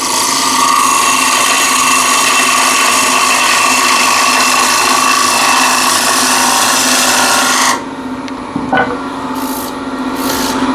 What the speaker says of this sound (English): That's as far as I can go with the gouge